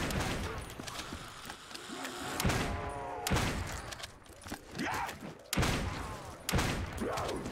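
Rapid bursts of gunfire from a custom zombies video game, repeated sharp volleys and thuds with creature growls between them, loud and close, with a voice talking underneath.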